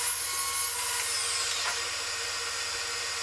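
Wooden end pieces fed through a saw on a first cut during a workshop build, a steady whine with a brief rising hiss of blade contact, close and continuous, no speech.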